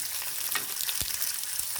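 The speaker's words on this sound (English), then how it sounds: "As long as your frying pan is really, really hot, you want to do it for around about 3 minutes on each side." Thin steaks sizzle loudly in a very hot frying pan, a steady dense crackle and hiss with occasional sharper pops, close up and with no voices.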